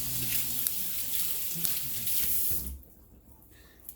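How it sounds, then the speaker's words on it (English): A sink tap runs as hands are rinsed under the stream, a close, steady splashing rush that cuts off abruptly partway through, leaving quiet room tone. "now I'm just going to wash my hands quickly"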